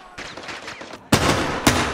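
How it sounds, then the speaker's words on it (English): Gunfire in a Modern Warfare II campaign mission: a flurry of rapid shots, then two loud, close bursts after a short lull. "Run! Gunshots!"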